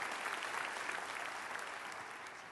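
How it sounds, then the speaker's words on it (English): An audience applauds a US senator, Jack Johnson, at his annual barbecue in Tennessee: a dense, steady wash of clapping hands, sustained at even loudness throughout with no voices rising above it. "Let's give your Senator Jack another great round of applause for what he does for us."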